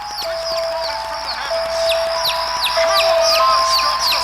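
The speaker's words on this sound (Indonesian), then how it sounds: "terdengar suara anak ayam yang terus berbunyi" Baby chicks peeping nonstop from some distance away at night, a busy stream of repeated high chirps over a faint steady background hum.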